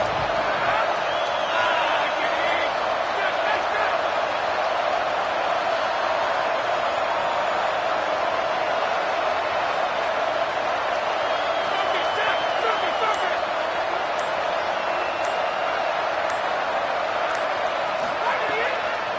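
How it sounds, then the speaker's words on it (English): In a college football video game, the Red Raider stadium crowd roars on a third down, a sustained, even wall of cheering noise running the whole time beneath play-by-play commentary. "The Red Raider crowd rising to the occasion to help its defense on 3rd down."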